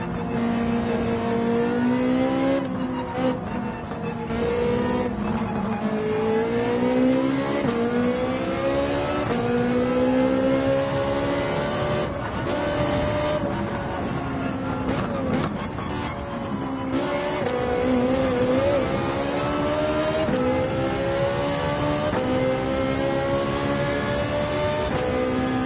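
Ferrari race car engine in Gran Turismo 7 revving hard and continuously, pitch sweeping up and down with gear changes through a steady loud drone with no talk.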